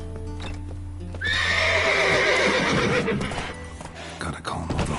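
A horse in the video game Witcher 3 lets out a loud, long whinny over a low background hum, with hooves clopping nearby and a voice talking under the sounds.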